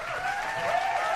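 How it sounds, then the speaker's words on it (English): A room of people claps steadily, a dense, even burst of applause with no speech over it. "Can we clap it up for that?"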